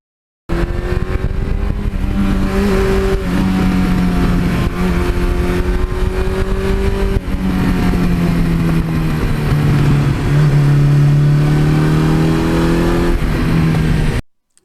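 A Suzuki GS1100E street motorcycle engine revs loudly and steadily up close, its pitch climbing and falling through several throttle blips over about fourteen seconds with no talking.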